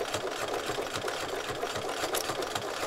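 A sewing machine stitches fabric that rotates around a pin to sew a perfect circle, its rapid, even needle clatter pulsing steadily and fairly quietly, with no talking.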